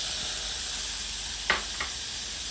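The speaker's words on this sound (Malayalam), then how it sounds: "ഇതൊക്കെ കൂടെ നന്നായിട്ട് റോസ്റ്റ് ചെയ്യുക ലോ ഫ്ലെയിമിൽ" Spices and chili powder roasting on low flame in a pan, giving a steady, close hiss of sizzling with a couple of brief stirring scrapes.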